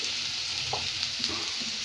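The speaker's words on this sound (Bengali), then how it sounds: "লাড়াচ্ছি পেঁয়াজ।" Onions stirred and frying in a pan while making Bengali dhundol (sponge gourd) bhaji, a steady hiss of sizzling broken by a few soft spoon scrapes, close and continuous with no voices.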